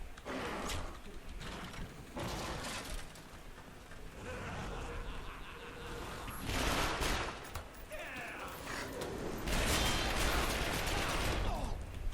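Gunfire rattles in the shooter video game The Darkness II, with dense rapid bursts that swell and fade over a busy mix of game effects, fairly loud and continuous, with no speech.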